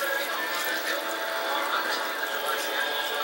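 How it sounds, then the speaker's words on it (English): Dry Malbec red wine poured into a pot of braising beef short ribs over medium-high heat, a steady close splashing pour lasting the whole stretch. "Pour the rest of our wine in here."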